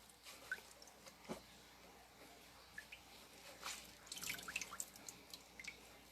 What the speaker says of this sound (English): That's what you want to see. You want to see drips.